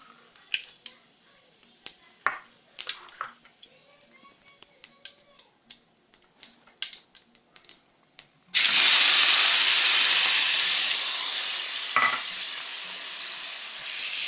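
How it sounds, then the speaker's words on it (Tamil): Chopped onion and tomato dropped into hot oil with cumin and fennel for tomato rice: scattered small crackles and pops give way to a sudden loud, steady sizzle that slowly eases, close up and without talk. "இப்போ இதில் நம்ம கட் பண்ணி வச்சுருக்கிற வெங்காயம் தக்காளியை நம்ம ஆட் பண்ணிக்கலாம்"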